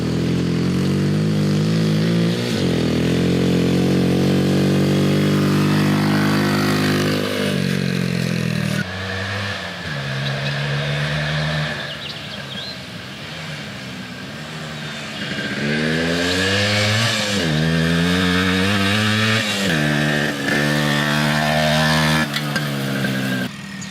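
Motorcycles idle and rev nearby at a shop, deep loud engine rumble rising and falling through several throttle blips, with one bike dropping back to idle between revs.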